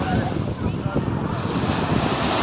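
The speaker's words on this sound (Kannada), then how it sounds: "ನೋಡಿ ಹೇಗಿದೆ ಅಂತ ಬೀಚ್ ನೋಡಿ" Surf and wind at a beach, a continuous rushing wash of waves with gusty wind noise against the microphone, fairly loud and unbroken.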